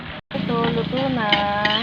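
Bottle gourd and bitter gourd sautéing in a pan, giving a steady close sizzle with stirring scrapes, broken by one brief gap near the start.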